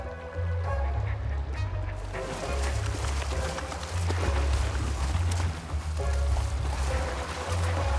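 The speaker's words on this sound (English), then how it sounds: "The fight between the drakes is so fierce that they fight from the water to the air and will not stop until one wins." Male scaly-sided mergansers fight fiercely on the water over a female, giving loud splashing and thrashing with low rumbling churn and scattered sharp bursts, sustained and close throughout.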